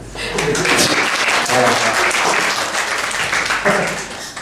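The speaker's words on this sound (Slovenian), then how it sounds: "Lahko prosim zaploskate." An audience claps and applauds loudly and steadily for several seconds, with voices faintly under it.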